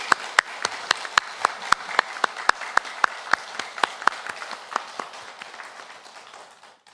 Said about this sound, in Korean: 이 시간 모든 영광을 받으실 하나님께 감사의 박수를 올려드리겠습니다.